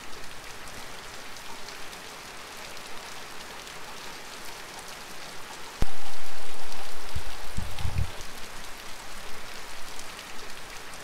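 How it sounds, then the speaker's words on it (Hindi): Steady monsoon rain in Kashmir's Neelum Valley hisses throughout, then turns suddenly louder and heavier partway through, with a few low thumps near the end. "इस वक्त सुबह से बारिश हो रही है"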